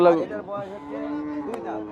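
A cow gives a drawn-out, low moo nearby, one sustained call lasting most of the moment.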